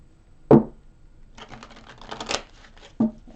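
A deck of tarot cards is riffled in a quick close burst, then a longer fluttering shuffle follows, ending with a soft thump as the deck settles.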